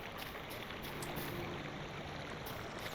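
A waterfall by Tom's house in the game LOTRO gives a soft, steady wash of rushing water, faint and continuous, with no voices.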